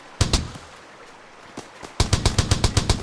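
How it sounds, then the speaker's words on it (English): Gunfire in the mobile battle royale Battlelands Royale: a couple of sharp shots, a lone pop, then a fast, evenly spaced burst of about nine crisp reports, close and loud. "I'm just gonna start firing out"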